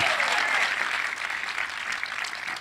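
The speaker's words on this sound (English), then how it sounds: "can we again, with our heartiest applause, our heartiest woo-hoos, give it up for everyone that was involved in bringing this beautiful building to our community." A crowd applauds steadily for the unveiling of a new library building in Charlotte. The clapping is dense, sustained and fairly loud, with no speech over it.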